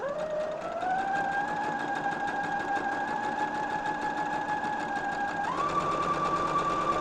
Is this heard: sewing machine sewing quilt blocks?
yes